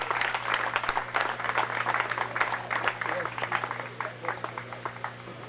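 Hands clap in a steady patter for a certificate recipient at a 2019 HIFA Cross River awards event in Calabar, an indoor crowd applauding over a low electrical hum with voices mixed in.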